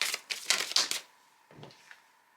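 Tarot cards shuffled and flipped on a table: a quick flurry of crisp papery riffles and slaps, then a softer single card placed down, close and alone with no talk.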